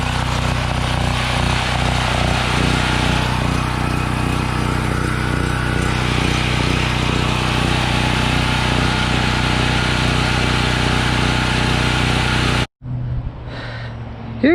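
A small portable generator that had sat unused for a year, now restarted after a carburetor cleaning, runs with a steady, loud engine drone close by for about twelve seconds, then cuts off abruptly into near silence with faint handling noises.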